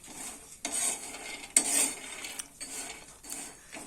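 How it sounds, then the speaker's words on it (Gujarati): Peanuts roasting in a pan, stirred with a metal utensil, giving repeated scraping and rattling sweeps in a slow rhythm, close and fairly quiet. "મારી સિંગ શેકી દેવાની."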